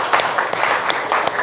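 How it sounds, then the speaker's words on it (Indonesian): Classroom applause for a student who answered correctly, a dense burst of many hands clapping steadily for about a second and a half, moderately loud and close, with a faint voice underneath. "Kasih aplaus buat Mas Hasan."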